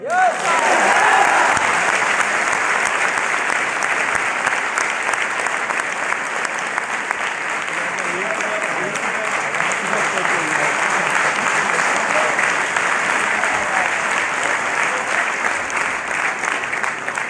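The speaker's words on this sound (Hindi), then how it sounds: "एक बार जोरदार तालियां आप" Loud, sustained applause from a large audience at a motivational business meeting rolls on without letup, with scattered voices and cheers surfacing through the clapping.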